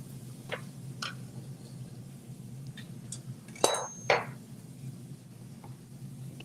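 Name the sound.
stirring a mixture with smoked cheddar and green onions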